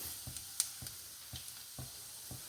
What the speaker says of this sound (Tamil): ஒரு வரமிளகாய், கொஞ்சமாக பெருங்காயம், கடுகு நல்லா பொரியுறது.